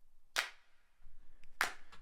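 Two sharp, layered hand claps in an a cappella track, spaced about a second and a quarter apart, crisp and isolated against near silence with faint soft ticks between them.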